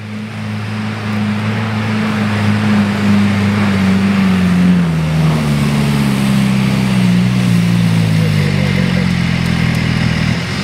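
Big engine of an off-road vehicle droning steadily at close range, its pitch sagging and rising slightly under load over several seconds, loud and continuous with no talk.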